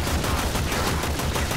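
Rapid, dense automatic gunfire from the video game Warframe, loud and continuous bursts with no talk over them.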